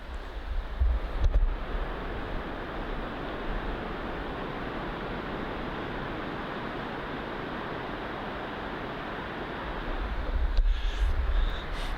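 Ocean waves and wind at Pachena Bay in Bamfield, a steady broad surf roar with gusty wind buffeting the microphone, swelling near the start and the end.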